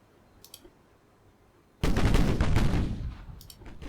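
A sudden heavy salvo of naval guns in the warship game Ultimate Admiral Dreadnoughts, a loud broadband boom that rumbles and decays over about two seconds after quiet, with faint clicks before.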